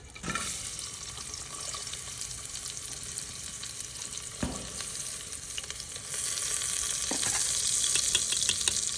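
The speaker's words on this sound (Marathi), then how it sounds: "कांदा परतायला टाकलाय" Onion frying in hot oil on a wood-fired village stove, a steady bright sizzle running throughout and growing louder in the last few seconds, with a few soft knocks of a stirring utensil.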